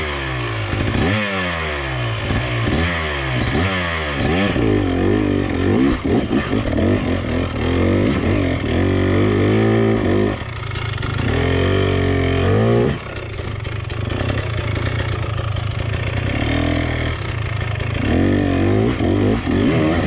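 KTM 300 XC two-stroke dirt bike engine revving loudly and repeatedly on a narrow hard enduro trail, pitch rising and falling in quick bursts throughout.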